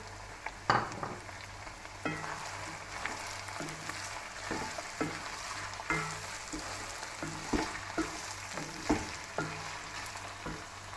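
Tomatoes go into a pan of frying vegetables with capsicum and cabbage for Singaporean rice, giving a steady close sizzle punctuated by regular scraping stirs and spatula taps, no voices.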